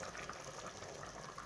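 Liquid is poured steadily into a pot of spicy channa potato gravy, making a continuous close gushing, splashing flow with no speech over it.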